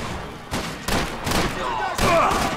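Gunfire in the video game Max Payne 3, several sharp loud bursts of shots in quick succession, close and punchy.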